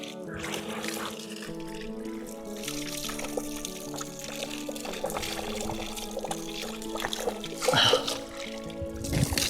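Very cold water pours and splashes in a Nepal village, a continuous close stream with a bright spattering hiss that swells near the end.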